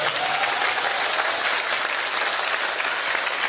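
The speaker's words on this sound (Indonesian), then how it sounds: "Untuk tepuk tangan." Audience applause at a religious lecture by an Indonesian preacher, a loud, dense, steady clapping from a large crowd that continues unbroken for the whole stretch.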